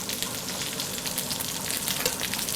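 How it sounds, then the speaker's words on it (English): Salmon fillet frying in a pan gives a steady, close hiss of sizzling oil throughout, even and unbroken with no voices. "I'm simply going to leave the salmon on the pan for about 2 to 3 minutes"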